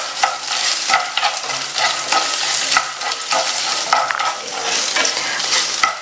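Dal sautéing in a pan with green and dried chillies and a small piece of tamarind, a continuous close sizzle broken by repeated scraping stirs, with no talk.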